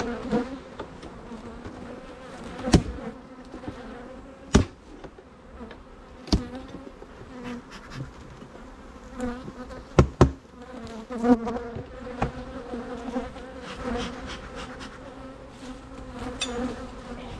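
Honeybees hum and buzz steadily around beehives in mid-July honey production, close and continuous, with sharp knocks and taps from hive work breaking in every few seconds.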